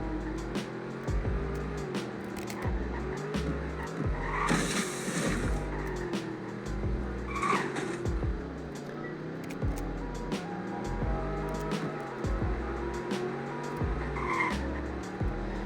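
A performance car bought for under 30K is pushed into corners on a road in Greenville, Wisconsin, its engine droning and rising and falling nearby, with scrubbing tire squeal and skid noise in a few spots.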